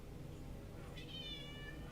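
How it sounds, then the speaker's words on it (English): A cat meows once, faint and brief, over a steady low rumble of background noise. "Oh, knock it off, lady. That's my cat."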